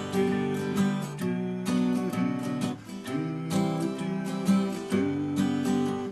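Close acoustic guitar strumming chords with a lilting, swung rhythm, long-short strokes repeating in a relaxed groove, with no voices.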